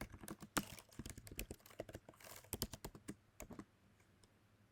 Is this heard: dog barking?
no